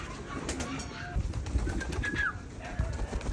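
Free-flying pigeons out in the open, soft cooing calls and a brief chirp over a faint rustle of wings and background murmur, with a voice in the background.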